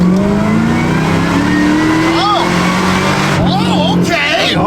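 A supercharged LS3-powered race truck launches and pulls hard, its engine note climbing steadily and loud throughout, with excited voices talking over it near the end.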